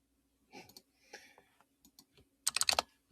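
Mouse and keyboard clicks while playing a Pokémon battle game, sounding as short scattered taps and then a quick close burst of rapid clicks, alone without talk.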